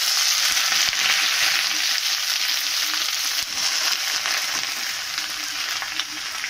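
Pumpkin leaves frying in a pan give off a steady, loud hiss and sizzle, bright and crackling throughout with little change.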